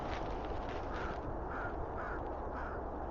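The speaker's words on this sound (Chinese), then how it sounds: "这边有很多站在水里的海鸥" Seagulls standing in the water along a lakeshore at Burnaby Lake in Vancouver give a few repeated harsh calls at a moderate distance over a steady wash of wind-like outdoor noise, with no one talking.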